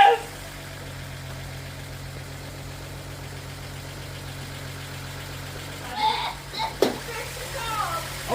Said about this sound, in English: We gotta let the engine come to temperature so it can bond and mend everything together.